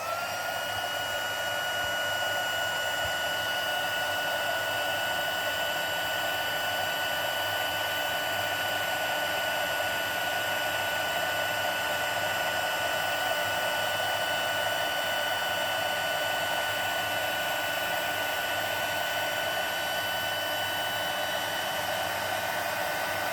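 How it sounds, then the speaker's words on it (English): A heat embossing gun blows hot air in a loud, steady whooshing roar with a whining motor tone, running without pause. "let's start heat embossing our first one. So this is going to be a little bit noisy."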